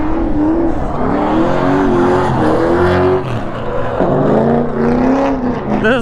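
A wide-body Honda Civic with an aftermarket exhaust and coilovers drifts at Myrtle Beach Speedway, its engine revving loud and close in rising and falling sweeps, with tire squeal mixed in throughout.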